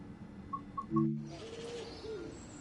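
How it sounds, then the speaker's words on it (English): Birdsong in trees along the Medway Valley Line in the Train Sim World 6 video game: a few clear chirps and short coos, then a longer whistled warble over a soft ambient bed, with no talking. "Love the sound of hearing the birds in the trees and Mother Nature doing its thing."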